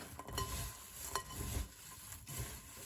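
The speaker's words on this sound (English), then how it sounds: "And we're just going to mix this around." A granola mix of dried fruit and shredded coconut is stirred in a bowl, making a close, continuous rustling and scraping with soft pattering surges and no talk.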